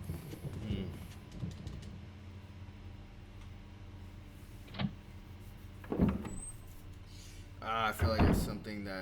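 A locked door rattles in the survival horror game Resident Evil, Jill's story, giving a few short clattering jolts spread across the stretch, with a steady low game hum and someone talking over it.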